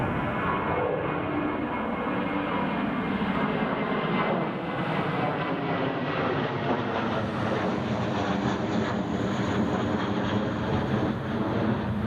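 An airliner climbs out after takeoff from Newcastle Airport in a storm, its jet engines a loud, continuous roar that slowly shifts in pitch as the aircraft pulls away.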